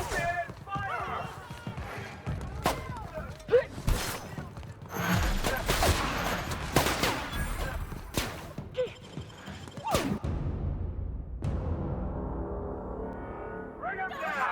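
Gunfire in The Outer Worlds: bursts of shots and heavy thuds fire in rapid volleys throughout, with shouting voices over the fight.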